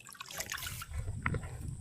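A small trickle of irrigation water runs into a rice paddy, a faint, steady liquid dribble with soft splashy drips, close by and continuous without any talk.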